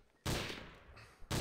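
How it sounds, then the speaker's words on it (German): In the Trouble in Terrorist Town video game, gunfire strikes the player in two loud, abrupt bursts separated by a short gap, each a harsh wall of noise. "Oh, ich wurde angeschossen!"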